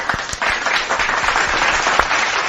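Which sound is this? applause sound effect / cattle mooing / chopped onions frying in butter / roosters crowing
applause sound effect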